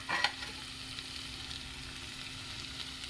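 Brinjal (eggplant) fry being stirred in a pan, giving a steady soft sizzle with a few light scraping clicks near the start, no voices.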